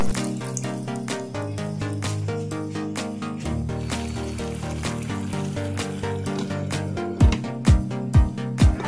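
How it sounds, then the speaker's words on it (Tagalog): Water pouring into a pot of chicken being cooked with mushrooms in a creamy dish, a steady splashing stream running for several seconds, followed by a few clunks near the end. "Tapos mag-add tayo ng tubig para pangluto sa manok."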